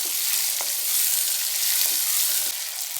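Small onions frying in a pan make a steady, loud, close sizzle, a dense hiss with a few faint scrapes and a slight drop in level near the end.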